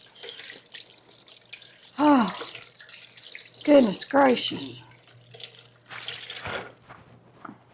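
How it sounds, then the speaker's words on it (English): Warm tap water runs over a hand being washed at a kitchen sink, a soft steady trickle and splash beneath a woman's brief exclamations, with bursts of louder splashing midway. "I'll wash my hand off in some warm water before it freezes off."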